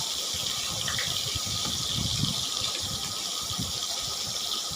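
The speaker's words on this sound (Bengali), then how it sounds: "এইগুলো আমি সব জল দিয়ে ভালো করে ভিজিয়ে রাখবো।" Water pours steadily into a bowl of ground spices (turmeric, chili powder, cumin, Kashmiri chili and coriander powder), a continuous close gushing splash with no breaks and no talking.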